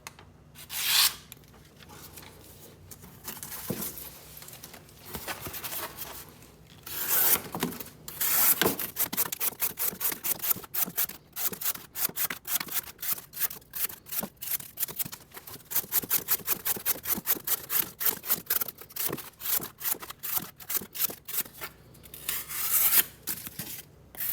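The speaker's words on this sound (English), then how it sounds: "first we're going to cut up some cardboard" A Monterey Bay Knives Slayback flipper with a ZDP-189 steel blade slices through cardboard in long runs of quick, scratchy, rasping strokes, close and fairly loud, with short pauses between bursts.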